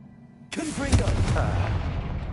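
A Confringo fire spell blast in Hogwarts Legacy erupts suddenly out of near silence as a loud booming burst, then trails into a sustained rumbling roar with crackling tones.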